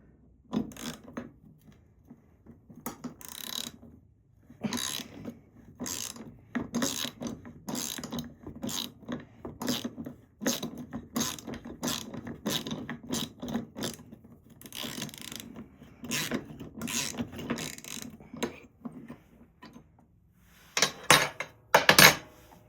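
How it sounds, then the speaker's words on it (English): A 3/8-inch ratchet works a tight bolt on a 1991 Polaris Trail Boss 250 four-wheeler, its pawl clicking in rapid bursts close to the microphone with brief pauses and metallic clinks between strokes. "So I just grabbed a 3/8 ratchet instead of a quarter."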